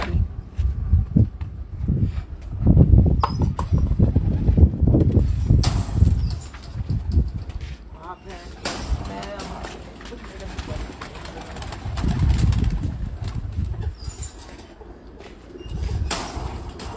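Pigeons on a rooftop in Hafizabad, including dub-type pigeons, coo and flap their wings, with low repeated cooing and bursts of wing noise under nearby conversation and background bustle.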